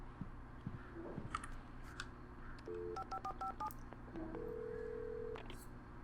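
A phone is dialed in the video game Alan Wake: a string of quick keypad tones in a crisp run, then a longer steady tone, all fairly quiet over a low background hum.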